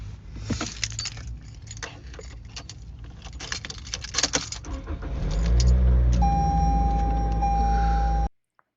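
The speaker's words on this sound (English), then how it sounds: "I need to turn on my car." Keys jangle and clink for several seconds, then a car engine cranks and starts, settling into a steady close idle before cutting off abruptly.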